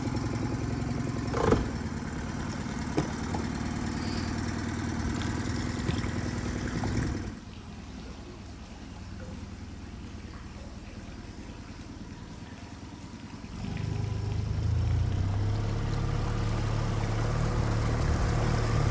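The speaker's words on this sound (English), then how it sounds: "Now I've just got to start this engine." The engine of an Oyster 56 sailing yacht drones steadily, drops to a quieter low rumble midway, then returns louder with a deep, even hum to the end.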